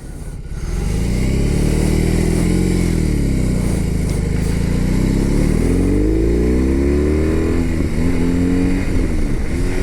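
A 2023 BMW R18B motorcycle pulls away in first gear, its big engine revving up from a low rumble into a loud, rising drone with wavering pitch as it accelerates close by.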